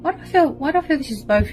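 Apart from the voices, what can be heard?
No distinct noise like a dog, phone or traffic.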